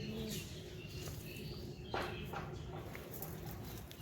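Domestic pigeons kept at home, soft cooing and faint shuffling close by over a low, steady background hum, with no talk.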